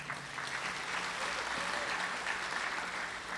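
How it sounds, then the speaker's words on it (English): Moderate applause from an audience at a town meeting unveiling market designs, a steady wash of clapping at a distance, with faint murmuring voices underneath. "Let's give yourself a round of applause."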